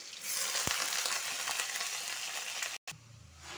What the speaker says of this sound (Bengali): আলুটা ভালো করে ফ্রাই করে নিব